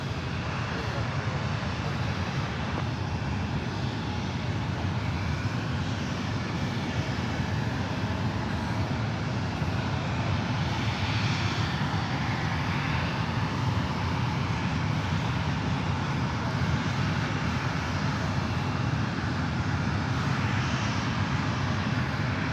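A Boeing 767-300ER airliner approaching runway 28 right at San Francisco airport gives a steady, loud jet engine roar that holds throughout, with a person talking over it.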